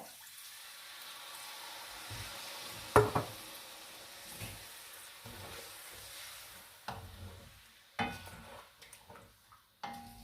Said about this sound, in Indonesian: Sekarang akan kita masukkan buncis dan kita akan ongseng sebentar.